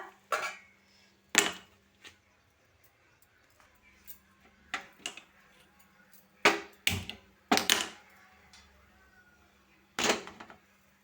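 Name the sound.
washing dishes, pots clattering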